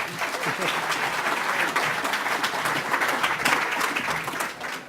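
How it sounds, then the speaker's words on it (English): An audience at a talk on social economics and the circular economy in New Zealand bursts into sustained applause, dense clapping that holds steady for the whole stretch, with a presenter's voice heard over it. "A huge round of applause for Shamubeel."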